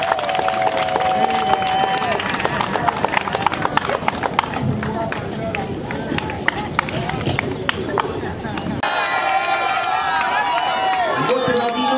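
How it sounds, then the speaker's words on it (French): Applause and crowd noise rise at an outdoor state ceremony in the Democratic Republic of the Congo, with dense, sustained clapping and chatter, then a sharper break near the end as the sound thins out. "Sous vos applaudissements, bien sûr."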